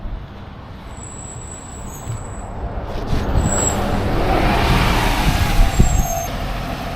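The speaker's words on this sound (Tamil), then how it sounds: "இப்போ வருது தான் துபாய் பஸ்ஸு" An air-conditioned city bus in Dubai pulls up and idles nearby, its engine rumble growing louder and filling the street while high air-brake hisses sound out.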